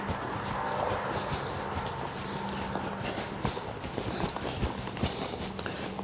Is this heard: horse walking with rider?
yes